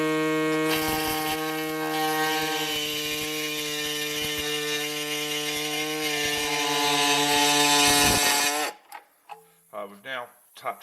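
A cutting tool slices into a Mercedes W109 rear passenger box-section body panel with a loud, steady, high-pitched grinding whine for about eight seconds. It stops abruptly, and brief speech follows.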